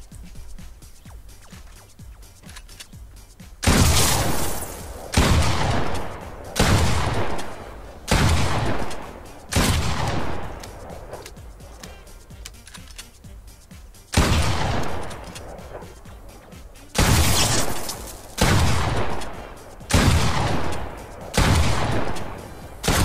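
A legendary pump-action shotgun in Fortnite fires heavy, booming blasts in a regular rhythm, about a dozen shots in small groups with short gaps between, each loud and close with a brief decaying tail.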